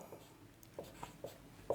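Pen or marker writing on a board or paper during a Class 11 maths lesson on straight lines, a few soft scratchy strokes spaced out over a quiet background.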